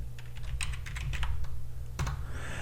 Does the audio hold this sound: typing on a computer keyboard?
yes